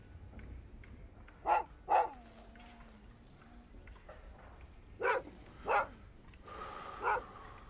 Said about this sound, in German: Verfluchter Köter.